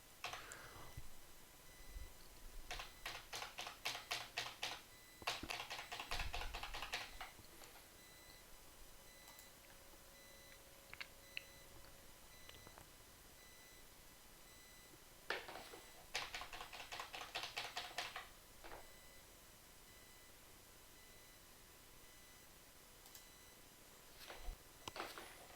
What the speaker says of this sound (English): So I'm going to be doing this by using a keyboard shortcut, Control P.